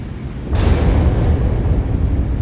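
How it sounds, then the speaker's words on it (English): An explosion in the video game Star Wars: The Old Republic, aboard a ship near the escape pods, sets off a deep rumbling boom. A low roar swells and lingers under steady background noise. "What was that? An explosion?"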